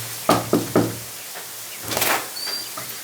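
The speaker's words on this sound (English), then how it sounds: "Here I am knocking on my own door again." Three sharp knocks on a door, evenly spaced, followed by a rattling scrape and a faint creak in a quiet space.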